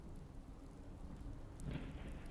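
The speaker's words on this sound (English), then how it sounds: "I hear a little bit of rain, but I'm not seeing it." Rain and rolling thunder in the video game Fallout 4 make a steady hiss of rainfall over low rumbling, with the thunder swelling louder near the end; no one talks.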